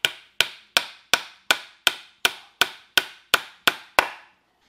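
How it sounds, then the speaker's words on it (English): Hammer driving a nail through a wooden crate slat into a post, eleven sharp, evenly spaced strikes ringing out loudly and close, each decaying quickly, with no talk. "So we'll just get our first bottom slat nailed up,"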